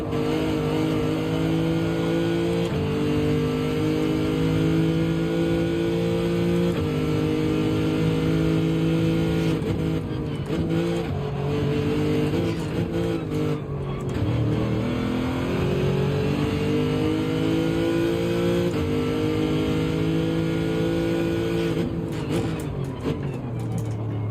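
A Porsche race car engine revs and shifts through the gears in a racing video game at Spa-Francorchamps, the pitch climbing repeatedly then dropping at each gear change, loud and continuous with no speech.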